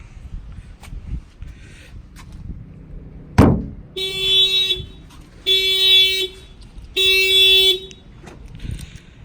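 A 2019 Honda Civic factory alarm, fitted with an add-on shock sensor, sounds in three repeated electronic blasts of roughly a second each, preceded by a sharp thud, with quiet background noise between.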